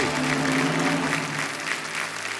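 Studio audience applause on a Hindi TV quiz show, steady dense clapping from a large crowd throughout, loud and sustained without a break.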